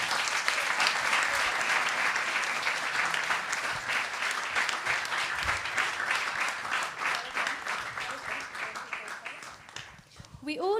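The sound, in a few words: round of applause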